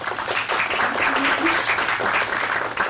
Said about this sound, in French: Merci beaucoup, on l'applaudit à nouveau.